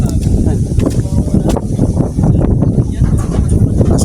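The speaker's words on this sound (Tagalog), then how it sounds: "Mas ang hangin, oh." Strong wind buffets the microphone at a hilltop viewpoint overlooking Angono, a steady loud roar with gusty surges through the whole stretch.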